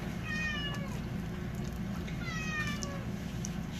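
A male kitten meows twice, thin, high and fairly quiet, over a steady low background hum, with a pause between the calls.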